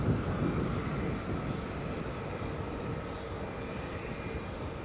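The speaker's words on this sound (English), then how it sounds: "So I'm just rolling to the end of the runway now" A Saudia Boeing 777 rolls along the runway after landing at Newcastle International Airport, its engines a steady, broad roar that stays even and unbroken with no voices.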